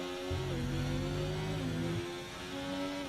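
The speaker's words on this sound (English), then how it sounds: "We are driving. Beautiful Ferrari car." The Ferrari Formula 1 car on track during qualifying in the video game F1 24 holds a steady, high engine whine that shifts in pitch as it drives, loud and continuous.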